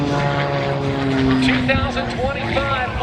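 An Edge 540 aerobatic propeller airplane flies a centrifuge maneuver at an airshow at Hammond Northshore Regional Airport, its engine drone steady and fairly loud throughout, with shifting pitch under a commentator's voice.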